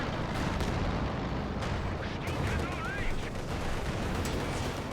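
Gunfire and artillery in the Company of Heroes 2 strategy game form a dense, continuous wash of battle noise with sharp bursts and booms, and a voice talks faintly underneath.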